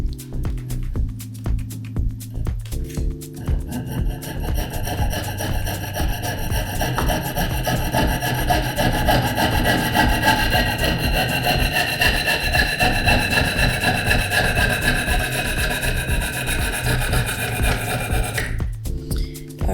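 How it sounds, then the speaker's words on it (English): A hand saw with a lubricated blade cuts through copper pipe, steady rhythmic rasping strokes that run continuously for nearly twenty seconds, loud and close, with no voices. "Put the Pepe lube on it, lubrication for the saw blade, and we will begin cutting right here"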